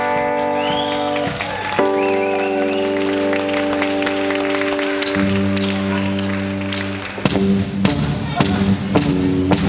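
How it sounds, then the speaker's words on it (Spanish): Applause from a concert crowd greets a country and rock and roll guitarist at a band show, scattered clapping running beneath sustained musical tones and chords, with sharper claps breaking through near the end. "Un aplauso grande, por favor."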